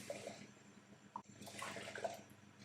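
Water poured gently from a cup into a saucepan for a squash and coconut curry, a soft, faint splashing pour that swells and gurgles over a couple of seconds, with no voices.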